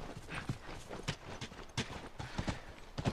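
Horses trot in the video game The Last of Us, with quiet, uneven clip-clop hoofbeats at a brisk pace and no talking.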